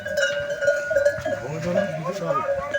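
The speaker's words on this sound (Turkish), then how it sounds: "Merinos koyunu bak kuyruksuz." Merino sheep bleat at an outdoor Kurban livestock market in Ortaköy, Mamak, Ankara. Several close, wavering bleats overlap with nearby talk in Turkish and the steady murmur of the crowd.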